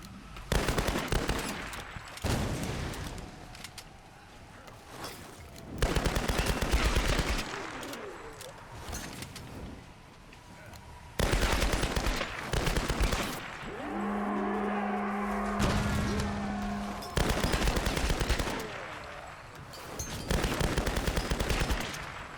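Bursts of rapid gunfire in a Tomb Raider fight against soldiers alternate with quieter stretches, loud and close, with rattling automatic fire repeated throughout.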